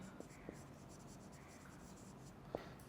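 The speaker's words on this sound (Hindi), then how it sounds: "सिनोनिम्स लिखते हैं" Quiet pen or chalk strokes from writing during an English lecture, with soft scratchy bursts and a few sharp taps over a faint room background.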